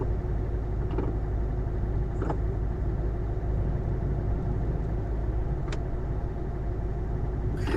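A truck engine in the video game Euro Truck Simulator 2, a steady low idling rumble held at constant loudness throughout, with a few faint brief clicks over it and no talking.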